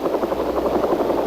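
An AH-1 Cobra attack helicopter flies past with a steady, loud rotor thump, rhythmic blade beats pulsing evenly over a low engine drone, heard on its own without voices.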